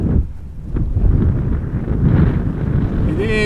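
Steady wind buffets a microphone outdoors at Amsterdam Schiphol Airport on a breezy, crosswind day, a loud continuous low rumble with gusts rising and falling.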